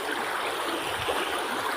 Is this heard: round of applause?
no